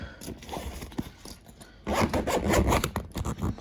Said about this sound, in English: Zip that up again.